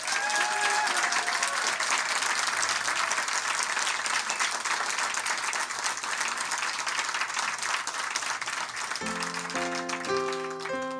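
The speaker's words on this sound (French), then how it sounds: "Je compte sur votre généreuse participation pour les saluer chaleureusement par vos applaudissements." Large audience applauding at a university award ceremony, loud sustained clapping filling the hall, joined near the end by music starting up.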